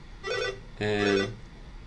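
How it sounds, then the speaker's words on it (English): A mobile phone rings nearby during a live coding session, two warbling tonal bursts of the ringtone with a short gap between them, fairly loud and clear, with no talking over it. "my phone's ringing"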